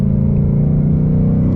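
Steady loud engine drone and road rumble from a car on Firestone Firehawk Indy 500 tires speeding up onto the I-95 highway, a continuous hum with no voices.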